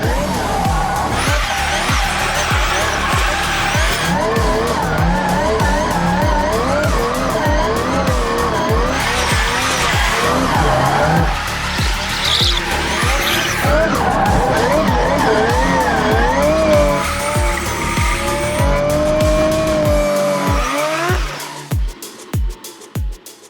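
Toyota GT86 drifting after a handbrake entry, its engine revving and tires skidding loudly and continuously close by, with squealing rising and falling before the car cuts off near the end.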